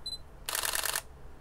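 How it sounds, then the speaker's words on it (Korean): A Sony NEX-6 mirrorless camera fires its shutter in continuous shooting, a quick burst of rapid, evenly spaced mechanical clicks lasting about half a second, close and clear. A short electronic beep comes just before it. "셔터 우선 연속 촬영을 하면 속도가 빠르려나?"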